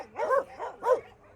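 Dogs at an outdoor shelter bark in repeated bursts, two strong volleys with smaller yips between, fairly close and clear with no talking.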